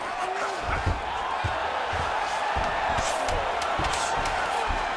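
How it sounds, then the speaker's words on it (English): A UFC fight crowd roars as the fighters get back to their feet after a long grappling exchange on the ground, a dense, sustained arena din with scattered whoops and shouts rising above it. "big pop from the crowd as they get back to their feet after a pretty scintillating grappling battle there on the ground"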